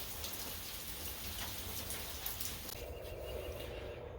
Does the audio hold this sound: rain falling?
yes